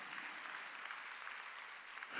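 A church congregation claps during a Sunday worship service, a steady, dense wash of applause filling the whole stretch at moderate distance, swelling slightly at the end.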